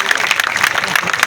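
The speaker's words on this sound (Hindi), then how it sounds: "ताली तो बजा दो कम से कम।" A crowd applauds at a public gathering in Jind, a brief burst of close, dense clapping with voices mixed in.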